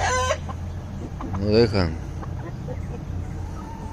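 Hens clucking close by in a short burst midway, under someone talking nearby.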